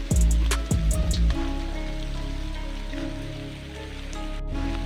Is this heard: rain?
yes